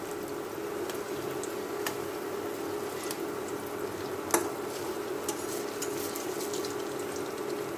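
Food frying in a pan gives a soft, continuous sizzle with occasional light clinks and taps, moderately quiet and steady, with no talking over it.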